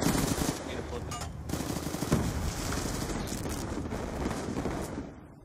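Rapid automatic gunfire from a multiplayer shooter game rattles almost nonstop in loud bursts, with a voice talking faintly underneath.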